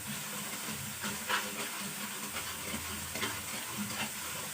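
Spices with turmeric powder roasting in a pan, giving a soft continuous sizzle with faint stirring scrapes, quiet and close, with no talking.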